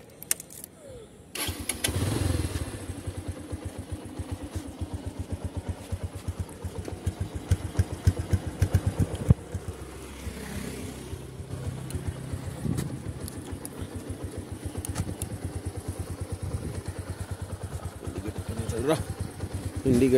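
A Bajaj Platina 100cc motorcycle engine starts up after a brief quiet moment, then idles steadily with a low, even putter close by, revving slightly now and then.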